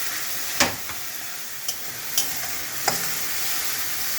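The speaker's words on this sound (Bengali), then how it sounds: "একটু জল দিয়ে দাও, এটাকে কষিয়ে নিয়ে এবার ডালটা ভেজে দেওয়া হবে।" Dal with vegetables fries in a pan, giving a steady sizzling hiss broken by a few sharp stirring scrapes, close by and with no one talking.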